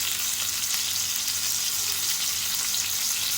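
Pieces of khadichi fish frying in oil in a pan over medium heat, a dense, even, close sizzle that stays constant throughout with no voices.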